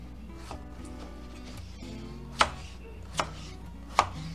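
A knife chops through potatoes on a board, with a few soft cuts followed by three sharp, distinct knocks spaced under a second apart, close and clear against a quiet kitchen background.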